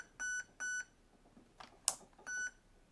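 A Specna Arms HAL ETU airsoft programming unit emits short, clean electronic beeps in a quiet room, two in quick succession, a sharp click, then another beep.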